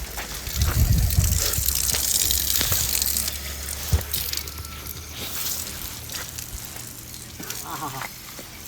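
Water gushes steadily, filling a container with a continuous rushing splash, loudest near the start and then easing slightly, while voices are faintly heard.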